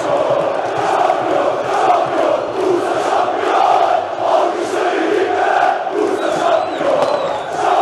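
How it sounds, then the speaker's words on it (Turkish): Bursaspor supporters in the stands singing championship chants after a goal, a loud, sustained mass of voices pulsing in rhythmic waves for several seconds, with no commentary over it. "Bursa Spor taraftarı şampiyonluk tezahüratlarına başladı"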